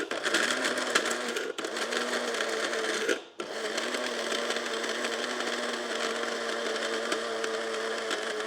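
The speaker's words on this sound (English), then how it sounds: "So this takes a little bit more because for some reason these are really hard to grind up." Dried strawberries ground in a small electric grinder, a loud continuous motor whir that cuts out briefly twice before resuming steadily, close up with no talking.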